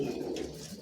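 Giribaz pigeons in a home loft give a soft, low cooing call that lasts under a second, close by and alone without talk.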